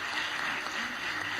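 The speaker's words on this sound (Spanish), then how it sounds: "un fuerte voto de aplausos para Silvia" Audience at a university event claps in a brief burst of applause, a short dense wash of hand claps heard up close.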